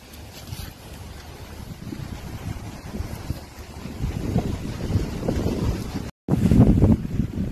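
Wind gusts over a rice field buffet the microphone in a low, rumbling rush with a soft rustle, building stronger toward the end after a brief dropout.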